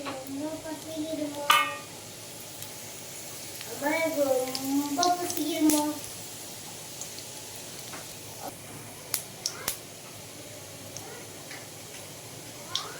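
Cinnamon, cloves, bay leaf and fennel seeds crackle in hot oil in a small ladle, giving a soft, steady sizzle with a few light clinks and brief vocal sounds in the quiet.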